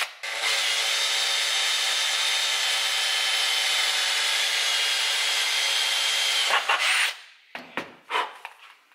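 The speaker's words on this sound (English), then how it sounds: "we're going to drill a small hole right in here" A power drill whirs steadily at high speed for several seconds, drilling a small lock-wire hole in a Lambretta race throttle, then stops, followed by a few short clicks and taps.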